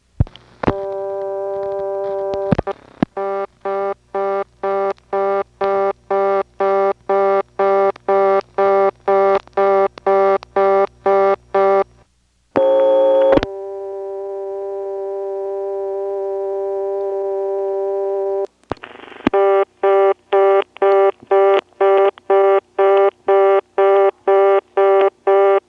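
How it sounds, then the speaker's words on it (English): Reorder tone on telephones served by a 1977 XY step-by-step switching office in Fuquay-Varina, North Carolina: a rapid, even train of buzzy beeps, briefly broken by a click and a steady tone before the fast beeping resumes. "Here's the first phone getting a reorder and then the second one."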